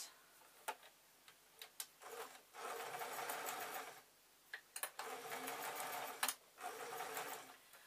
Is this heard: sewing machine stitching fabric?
yes